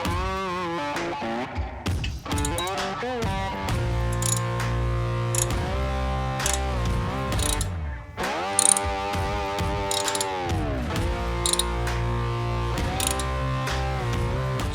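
A hand ratchet tightening the mount bolts of a Hogworkz Havoc engine guard on a Harley-Davidson Touring motorcycle, rapid clicking pawl bursts in repeated runs, close and clear with brief pauses between strokes.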